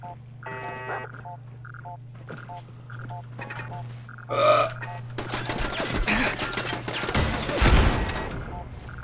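Gunfire and missile launches from the video game Fallout 4: a dense, loud barrage of shots and explosive blasts building over the second half, with a heavy boom near the end above a steady low game hum and earlier scattered tonal game effects.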